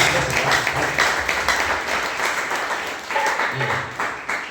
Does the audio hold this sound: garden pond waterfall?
no